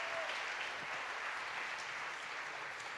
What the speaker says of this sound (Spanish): Denle un aplauso a mis actores voluntarios